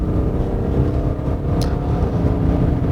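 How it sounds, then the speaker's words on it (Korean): A BMW 730Ld xDrive diesel engine roars steadily at full power, a deep continuous drone under hard acceleration with no pauses. "가속 페달을 밟아서 최대한의 엔진 파워를 끌어내고 있을 때"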